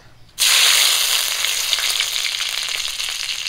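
Bay leaves dropped into hot oil left over from frying fish hit with a sudden loud sizzle after a brief quiet moment, then settle into a steady, close crackling hiss with scattered pops.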